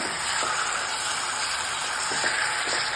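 Fish fries hotel-style in a pan with a loud, continuous sizzling hiss and a few faint pops. No one talks over it.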